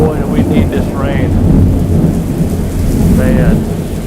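A loud thunderstorm with heavy rain pours down in a dense, continuous roar, with low rumbles of thunder rolling beneath it.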